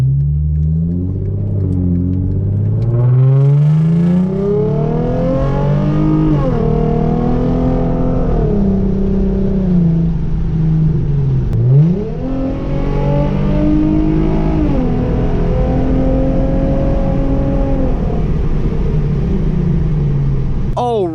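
A Hyundai Genesis Coupe drives on the road with a manifold riser installed. Its engine rumbles loudly and close throughout, rising through revs, dipping at gear changes and pulling again in long smooth sweeps.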